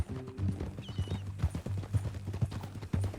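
Steady clip-clop of horse hooves from Red Dead Redemption 2, a rhythmic walking gait close by, with a brief whinny-like tone early on over a low ambient hum.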